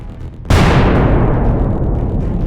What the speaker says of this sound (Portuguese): de repente há uma explosão alta no avião